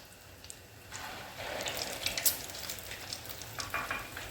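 Aloo chana dal kababs shallow-frying in a pan, a soft bubbling sizzle that swells after the first second and holds with small pops and crackles, fairly quiet and close.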